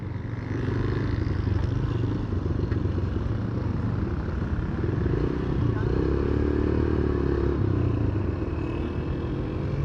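A beginner motorcycle's engine is ridden hard, giving a steady, loud drone with mechanical clatter and rumble that holds throughout while someone talks over it.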